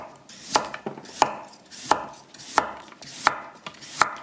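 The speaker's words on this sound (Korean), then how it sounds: "당근도 채 썰기를 할 거예요" A knife julienning carrots on a cutting board makes six crisp chopping knocks at a steady, moderate pace, close and clear, with faint scraping between the strokes.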